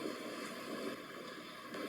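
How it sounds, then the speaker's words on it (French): Steady broadband wind rushing and roaring, constant and fairly loud throughout, with no voices. "On entend le vent."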